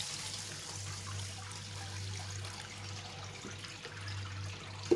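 Water pours steadily over lentils set to soak for a chicken haleem, a soft continuous trickle that runs the whole time at low level with a low hum beneath and a small clink at the end.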